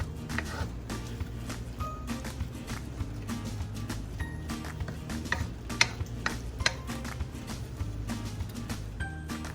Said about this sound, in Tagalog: Pagkatapos ito, haluin natin.